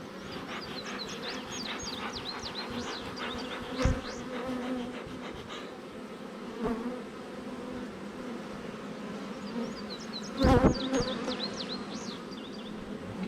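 Agitated honeybees at an open hive produce a dense, continuous buzz close by, with individual bees whining past now and then and a few soft knocks, and no talking.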